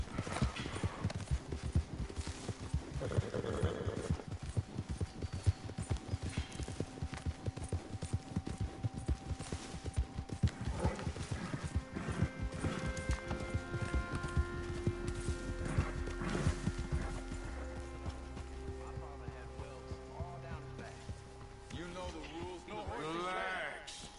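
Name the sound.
horse hooves and neighing, video game Red Dead Redemption 2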